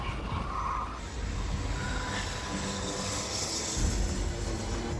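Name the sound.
80 mph electric go-kart sliding its tires on track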